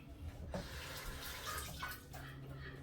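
Tap water runs steadily into a sink while vegetables are washed, a soft continuous splashing hiss at low volume, broken by a few small clinks and shifts of the flow, with no voices.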